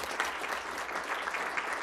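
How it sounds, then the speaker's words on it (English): A round of applause fills a school board of education meeting, steady clapping from a room of people, even and moderately loud for about two seconds. "let's give them a round of applause."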